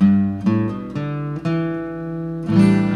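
A guitar plays the short intro phrase of a song, sustained chords and notes changing every half second or so, clear and close.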